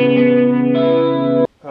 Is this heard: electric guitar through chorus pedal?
yes